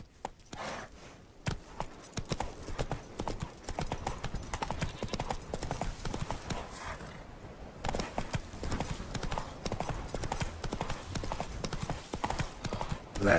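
Roach the horse in The Witcher 3 trots with steady, close clip-clopping hooves that run throughout, pausing briefly near the start and again midway before resuming at a brisk, even rhythm.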